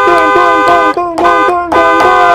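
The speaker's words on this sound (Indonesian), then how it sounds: "Ayah langsung bunyiin klaksonnya berkali-kali" A car horn honks loudly several times in quick succession, long blasts broken by brief gaps, close and dominant with no talk.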